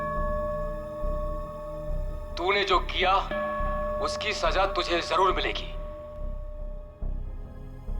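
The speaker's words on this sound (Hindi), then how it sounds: "पीछे घंटे की आवाज आ रही है।" A church bell rings steadily in the background of a recording, its sustained tones running beneath someone speaking loudly in a crime drama scene.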